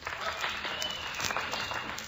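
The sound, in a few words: radio studio audience applauding a contestant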